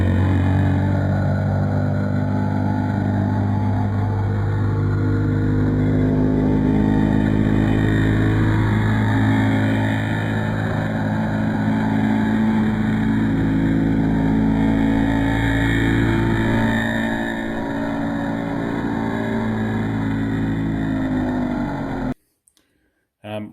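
Tamiya TGM-02 Terra Crusher nitro RC car with an FS18 engine running close by, a loud, steady buzzing drone that eases slightly, then cuts off abruptly near the end.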